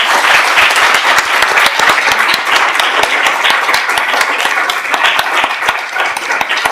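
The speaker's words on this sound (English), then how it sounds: "So please give her a round of applause." A Classical Summer School centennial audience applauding a woman honored as the program's living memory: dense, steady clapping from a sizable crowd, even and sustained throughout, with no voices over it.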